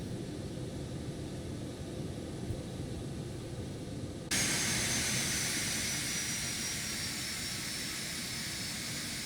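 Twin jet engines of a Phenom 300 business jet in the X-Plane 12 flight simulator give a steady, loud whooshing roar with hiss, and the sound brightens and swells abruptly halfway through as power changes.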